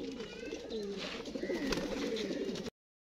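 About 25 colourful rangdar pigeons for sale coo together on a rooftop, overlapping low throaty coos in a continuous rolling murmur that stops abruptly near the end.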